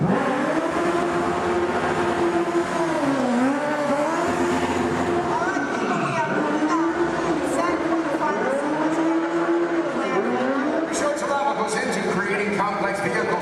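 Stunt cars rev and whine through a Disney stunt show, engine pitch rising and falling in repeated sweeps as they maneuver, loud and continuous, with crowd and announcer sound beneath and some sharp clatter near the end.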